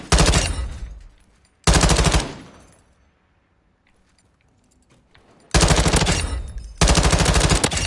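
A gun fires in the video game Modern Warfare 2 in four loud automatic bursts, each a rapid stream of shots, separated by gaps of quiet and a longer pause in the middle.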